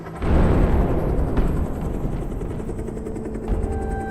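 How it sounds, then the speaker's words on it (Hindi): A military helicopter hovers low over snow at high altitude, its loud rotor and engine roar rising abruptly then holding as a heavy continuous drone. "मैं हेलीकॉप्टर को बर्फ पर उतारने का रिस्क नहीं ले सकता कैप्टन।"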